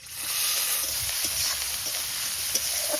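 Grated onion goes into hot oil seasoned with black cumin, setting off a loud, continuous close-range sizzle with scattered faint clicks and no voices.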